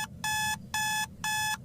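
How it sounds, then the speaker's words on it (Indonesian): Alarm in the Roblox game Judgement Day ringing in three even bursts of rapid electronic beeping, each about a third of a second long with short gaps between, loud and clear over a low background rumble. "Seperti biasa, alarm hidup dan Tuhan sudah dekat."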